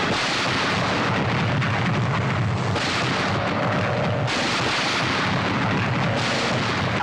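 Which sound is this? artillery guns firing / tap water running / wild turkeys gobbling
artillery guns firing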